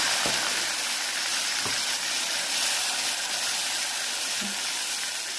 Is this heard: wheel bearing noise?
no